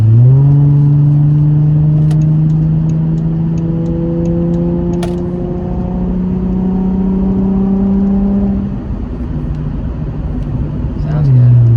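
A Chrysler 300 engine accelerates on the highway, a loud steady drone whose pitch climbs slowly over several seconds, then drops abruptly and climbs again as it shifts.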